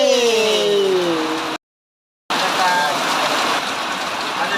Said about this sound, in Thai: เช้านี้ฝนตกหนังเลยนะครับ